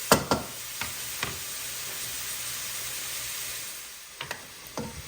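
Onions frying in leftover bacon grease in a pan, giving a steady soft sizzling hiss with a few sharp clicks and taps of a utensil near the start and end.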